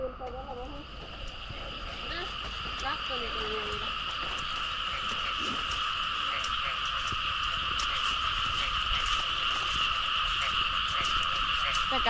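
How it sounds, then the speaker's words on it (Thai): Frogs croak in a rice paddy after heavy rain, a dense continuous chorus of overlapping calls with shrill insect-like trills layered on top, steady and loud throughout, with a few faint voices early on. "เสียงกบเสียงเขียด"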